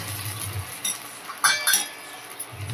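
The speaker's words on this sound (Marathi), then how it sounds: "आणि झाकण ठेवून शिजवून घेते." A lid set onto a cooking pan on the stove while semolina breakfast cooks, giving a few light metallic clinks and a brief clatter, close and fairly quiet with no talking.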